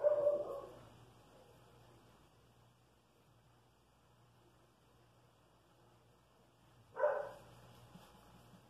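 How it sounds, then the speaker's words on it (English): A dog gives a short burst of barking, then long near-silence before a second brief bark. Both sound somewhat muffled, as if from another room. "you can hear my dog barking in the background"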